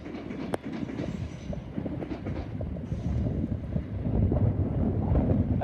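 A train runs through Wimbledon station, a steady rumbling roar with rail clatter that swells louder toward the end, with some wind noise on the microphone.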